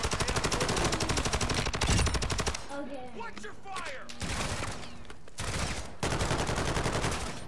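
Video game gunfire in rapid automatic bursts, loud and dense, broken by short gaps, with voices talking in the pauses.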